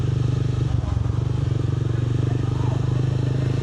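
A motorcycle ridden at night holds a steady, loud engine drone with a rapid regular pulse throughout, close and continuous with no talk.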